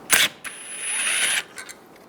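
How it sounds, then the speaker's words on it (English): A ratchet with a 10mm socket works a bolt loose during radiator replacement on a 2011-2018 Ram 1500. A sharp metallic snap is followed by about a second of steady close mechanical whirring, then a few faint clicks. "Using a 10mm socket, take this bolt out."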